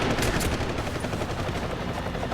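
Gunfire in the video game Deus Ex: Human Revolution, a dense, steady stream of shots that runs loud and without a break for the whole stretch.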